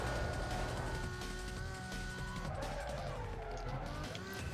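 A car in the video game Need for Speed Most Wanted brakes hard with a loud, continuous roar and tire noise that dips in pitch as it slows.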